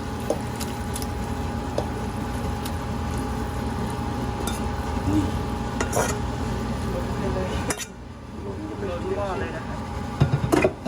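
Pork and roasted curry paste go into a pot of soup and are stirred, giving close scraping, clinking utensil sounds and a light sizzle while someone talks.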